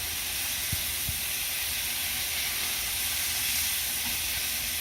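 Sausages browning in a pan, giving a steady close hiss and sizzle with a couple of faint soft knocks near the start.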